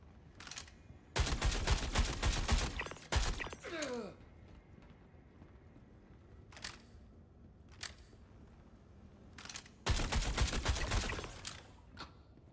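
Video game gunfire in a flight game played with a HOTAS setup: two long loud bursts of rapid automatic fire separated by quieter mechanical clicks and short isolated shots.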